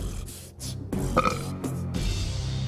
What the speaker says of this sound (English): then let out a loud burp